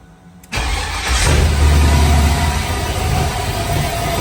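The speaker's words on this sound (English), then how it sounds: "We recently completed the LS3 swap. It runs like a scalding dog. I cranked that up for y'all too" A Camaro fitted with a swapped LS3 V8 barks to life and then holds a loud, steady rumble up close, with a deep low growl that stays strong to the end.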